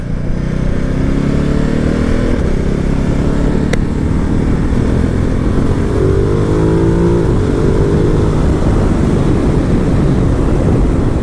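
A 2018 Ducati Multistrada 1260S motorcycle accelerates on a road, heard as a loud, sustained engine drone with rising pitch sweeps under heavy wind roar, recorded close from the rider's position.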